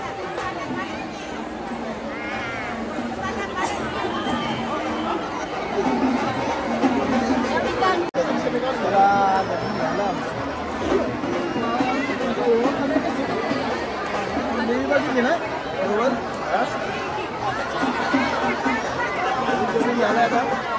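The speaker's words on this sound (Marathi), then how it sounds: "गर्दी बघा ना तुम्ही, खूप जास्त प्रमाणात गर्दी आज" Dense crowd of devotees chattering at Tuljabhavani temple in Tuljapur on a busy Friday, a steady loud hubbub of many overlapping voices filling the whole stretch without pause.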